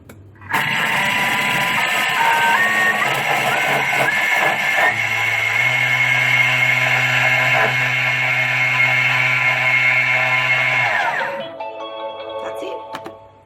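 A Thermomix grinding plain white sugar into caster sugar at speed 9, a loud steady high-pitched whirring roar that starts abruptly, holds for about ten seconds, then stops, followed by faint kitchen sounds.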